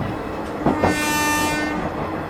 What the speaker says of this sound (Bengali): সম্পূর্ণ কয়লা ও বাষ্পচালিত ইঞ্জিন